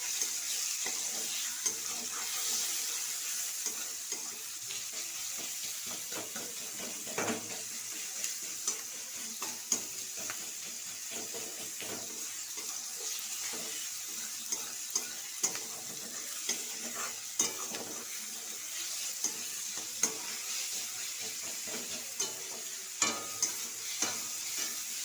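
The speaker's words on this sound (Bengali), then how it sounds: "এবার পেঁয়াজটাকে ভেজে নেব।" Onions frying in hot oil in a kadai with salt and turmeric, stirred steadily: a continuous close sizzle with scattered scraping clicks from the spoon, no voices.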